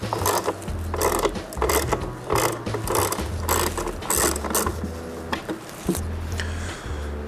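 A ratchet clicks in quick bursts while backing out loose plastic screws on a 2022 Harley-Davidson Road Glide ST, the close, sharp pawl chatter repeating in short runs with brief pauses and no talk.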